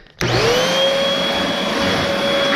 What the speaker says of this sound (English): I've got myself a nice little vacuum system.